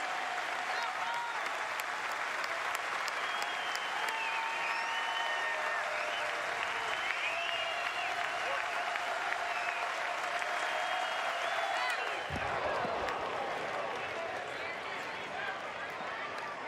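Baseball stadium crowd at a college game between Texas and Tennessee Tech, a dense, continuous wash of cheering and applause holding loud for about twelve seconds before thinning slightly.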